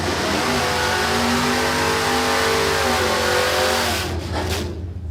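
A no-prep drag racing car launches hard down the strip at Warwick Dragway, its engine roaring loud and close with a steady rising rev before cutting off near the end.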